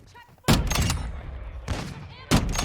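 Heavy Signal 50 sniper rifle shots in a video game: three loud, sharp blasts spaced apart, each trailing off into a long ringing echo, with faint background sounds in between.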